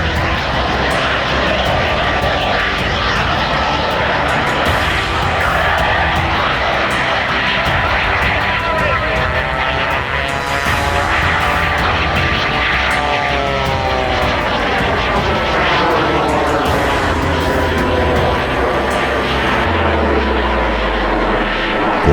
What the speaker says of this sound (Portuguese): Além do motor a pistão Pratt Whitney de 450 cavalos, Franklin adicionou uma turbina General Electric J85